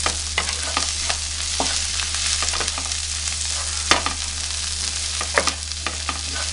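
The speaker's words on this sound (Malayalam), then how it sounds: "ശേഷം നമുക്ക് ഈ പച്ചക്കറികളെല്ലാം കൂടി ഒന്ന് മസാലയുടെ കൂടെ ഒന്ന് മിക്സാക്കിയെടുക്കാം" Vegetables being stirred with masala in a frying pan for a restaurant-style veg curry, steady sizzling with irregular scraping and clinking strokes of a spoon, close and moderately loud.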